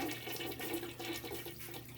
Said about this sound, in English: when I flush it, it doesn't have very much swirl.